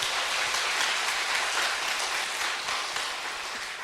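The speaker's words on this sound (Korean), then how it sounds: "우리 선생님들 격려의 박수 한번" A church congregation applauds its teachers with steady, dense clapping that fills the room from start to finish and tapers only slightly at the end.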